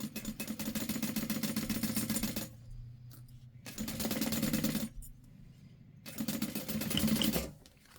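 Three steady bursts of sewing machine stitching on a clear bag, each a couple of seconds of rapid mechanical whirring separated by short quiet pauses, fairly close and moderately loud.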